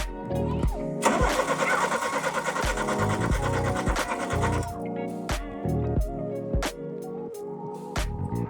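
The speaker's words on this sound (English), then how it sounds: "at this point it was time to start the motor." A VW Citi Golf engine starting after a sump service, with the starter cranking in a long rapid whirring run, then a series of separate sharp cranks and clunks.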